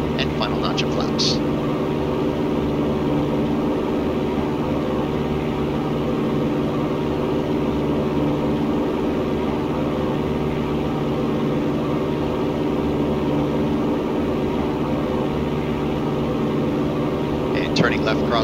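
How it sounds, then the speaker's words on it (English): A small airplane engine drones steadily while climbing out after takeoff, heard from inside the cabin as a constant loud, low hum with a few brief faint chirps near the start and end. "positive rate of climb, maintaining runway, heading, climbing out at 85"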